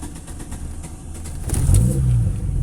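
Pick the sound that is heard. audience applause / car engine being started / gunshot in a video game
car engine being started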